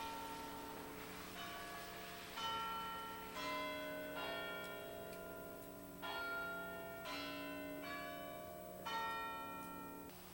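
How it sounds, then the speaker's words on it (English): Church steeple bells in Saint John toll in a slow, steady sequence of ringing strikes, each one ringing on and decaying into the next, moderately distant and with no voices. "St. Johners keep track of their day by both the steeple clock and the bells which toll the hours."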